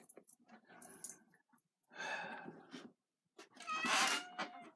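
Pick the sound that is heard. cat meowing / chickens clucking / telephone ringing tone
cat meowing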